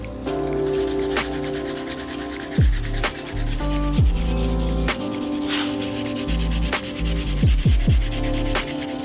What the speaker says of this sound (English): I'm gonna keep sanding and see if I can get away with cleaning these up.